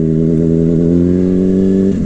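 A 600cc supersport motorcycle engine holds a loud, steady high rev with strong harmonic tones, close up and alone, before the pitch breaks off near the end.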